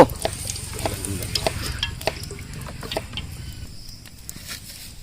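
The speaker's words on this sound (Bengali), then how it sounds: "তেল দেব, মাংস রান্না করব" Beef frying in hot oil in a village kitchen, a steady low sizzle with scattered stirring scrapes that slowly fade toward the end, no voices.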